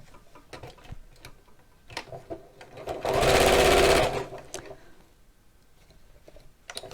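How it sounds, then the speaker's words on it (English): A sewing machine stitches fabric along a folded line in one quick burst of about a second, set among soft clicks and handling noises in a quiet room. "And sew."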